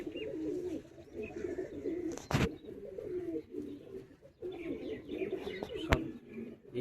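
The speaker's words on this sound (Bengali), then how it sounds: "A1 টপ কোয়ালিটির পায়রা।" Madrasi pigeons coo in soft, steady layered rounds with faint chirps, broken by a couple of brief sharp bumps nearby.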